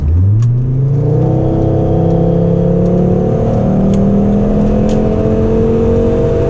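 A 1998 Volvo S70 T5 turbocharged engine pulls hard after a downshift, its loud, steady engine note sweeping upward in pitch as the car gathers speed, close and continuous with no talking.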